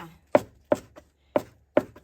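A knife chops against a cutting board in four crisp, fairly evenly spaced strikes, with a couple of lighter taps between them, nearby and with no talking.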